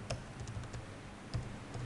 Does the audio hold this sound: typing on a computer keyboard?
yes